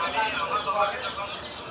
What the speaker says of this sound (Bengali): আপনারা দেখছেন পাকিস্তানি মিশরি ফার্মি মুরগির বাচ্চা।